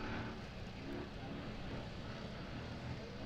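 Distant engine of a 4WP EMC off-road race car pushing hard, a broad, steady rumbling roar heard from far off with a commentator talking over it.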